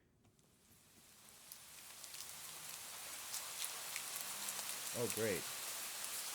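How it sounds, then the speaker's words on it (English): Rain in the video game Do Not Take This Cat Home, a hissing downpour that swells steadily from faint to loud, with a brief spoken remark near the end. "But in the middle of your walk, it starts to rain."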